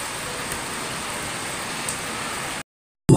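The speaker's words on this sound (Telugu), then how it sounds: "బాగా పడుతుంది వాన" Heavy rain pours down outside during a village downpour, a dense, continuous hiss that stops abruptly near the end.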